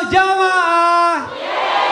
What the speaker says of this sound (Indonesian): Tepuk tangan dulu dong Bu buat Habib Muhammad Zaha